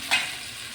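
Pumpkin leaves and fish fry in a pan, a short sizzling burst rising at the start and then settling into a steady, soft crackle that carries on alone.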